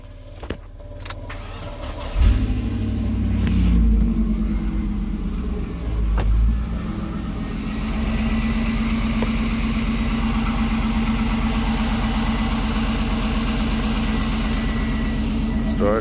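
A Chevrolet Silverado big-block engine cranks and catches on a jump start, then settles into a steady, loud, low idle that continues to the end. A voice speaks over the early part.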